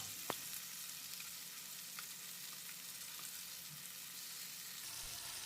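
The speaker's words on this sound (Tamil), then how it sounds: "மிதமான தீயில் ஒரு ரெண்டு மூணு நிமிஷம் ஃப்ரை பண்ணிக்கலாம்" Masala-coated fish frying in a pan over a medium flame, a faint, even sizzle running steadily with a couple of small pops and no voices.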